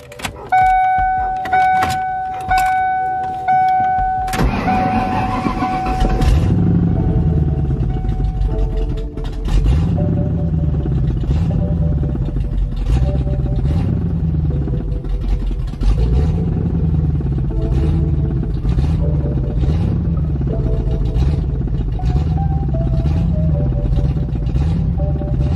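A 5.0 V8 swapped into a Ford Mustang idles loudly with a steady, pulsing rumble after a brief starter whine and crank, running continuously without voices.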